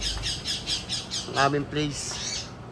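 An Indian ringneck parakeet gives a run of rhythmic, harsh squawks in the open, with someone speaking over the calls partway through.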